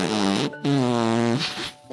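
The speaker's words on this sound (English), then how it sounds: "I'm a bad boy fart." A buzzy, rasping fart sound effect created for film sound design plays in two bursts, a short one then a longer drawn-out blat, loud and close.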